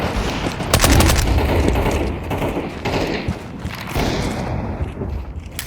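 Counter-Strike 2 gameplay with a flashbang grenade going off amid dense, loud bursts of gunfire, the sharp bangs and rattling shots running together for several seconds.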